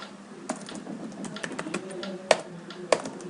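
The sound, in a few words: typing commands on a computer keyboard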